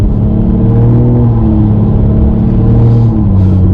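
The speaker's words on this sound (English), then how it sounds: "I can already hear the turbo whistle a lot louder" A turbocharged car engine with an aftermarket intake drones and revs at a steady, loud level from inside the cabin, with a faint high turbo whistle riding over the low rumble.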